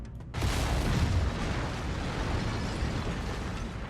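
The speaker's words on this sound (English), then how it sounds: "Lasers are mapped to weapon group 2. Fire them when ready." Mech lasers fire in MechWarrior 5: Mercenaries: a sudden loud, broadband roar bursts in and sustains as a dense, rumbling wash for several seconds.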